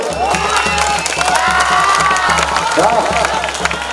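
A crowd at a rural wrestling dangal claps and cheers loudly, with shouting voices and a regular thumping beat running underneath.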